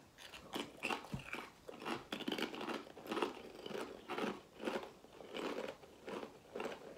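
Crunchy salsa verde tortilla chips are bitten and chewed close up, a steady run of loud crisp crunches repeating roughly every half second, with no talking.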